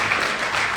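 Audience applause at an anniversary celebration event, a brief, even wash of many hands clapping, steady and moderately loud for under a second.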